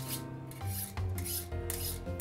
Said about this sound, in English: I'm gonna grab my WD-40, give it a spritz, and sharpen it up again